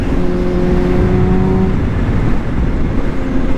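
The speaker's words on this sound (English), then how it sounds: "the way this pipe sounds, you go under a bridge and rev it up" A 2023 Kawasaki Z H2 engine revs with a rough, throaty exhaust note, steady and fairly loud, the pitch holding then breaking into a rumbling burble.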